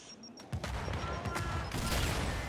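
Rapid bursts of gunfire in the shooter game Gears 5 crack out in a quick series of sharp shots over a low game backdrop, fairly quiet overall and continuous after the first half second.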